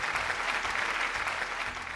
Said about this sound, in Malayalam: അപ്പോൾ ഒന്നുകൂടി കയ്യടി.